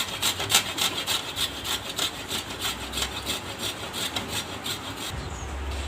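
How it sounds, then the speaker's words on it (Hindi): Peeled fresh ginger rubbed against a metal grater for a homemade cough remedy, a steady rhythmic rasping of repeated close strokes that runs the whole time, with no talking. "अब मैं इसको अदरक को इसमें घिसूंगी।"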